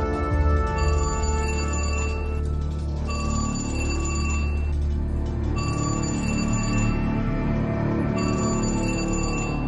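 A telephone rings in a home in repeated electronic trilling bursts with short pauses between them, loud and close over a steady low hum, with no one talking.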